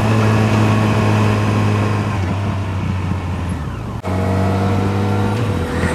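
A 2015 Yamaha FJR1300 motorcycle engine runs steadily in first gear, a loud, continuous low hum with wind rush, easing briefly near the end before resuming.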